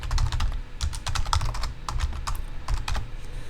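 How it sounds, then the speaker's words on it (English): Rapid keystrokes on a computer keyboard as a password is entered, close and fairly loud, in uneven bursts with brief pauses and no talk. "here type in my password and solve the CAPTCHA"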